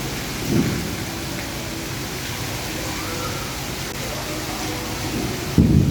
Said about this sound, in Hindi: बहुत तेज़ बिजली चमक रही है और बादल बहुत शदीद गरज रहे हैं